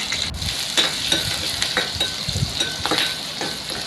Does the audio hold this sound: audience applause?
no